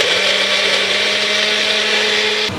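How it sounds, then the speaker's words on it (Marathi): A kitchen blender runs continuously, pureeing tomato pieces with a loud steady motor whine and a grinding hum, then cuts off abruptly near the end. "आता टोमॅटोची पण प्युरी करून घेते मी."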